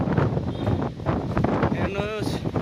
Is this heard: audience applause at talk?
no